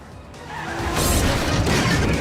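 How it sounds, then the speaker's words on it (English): A BMW rams another car in a film chase, a loud rising rush of engine and impact noise swelling into a heavy crunching crash that stays roaring to the end. "The BMW rams Dom."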